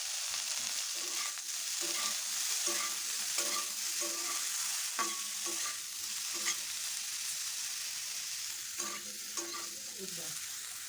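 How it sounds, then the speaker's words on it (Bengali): Boiled broccoli fries in a pan, a steady close sizzle running throughout while a utensil stirs and scrapes it in irregular bursts, with no one speaking. "ব্রকলিটা হালকা করে ভেজে নিয়েছি"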